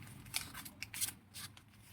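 Scissors snip through fabric while a princess-dart bustier is cut out at a sewing table, a few crisp close cuts in quick succession with no talking.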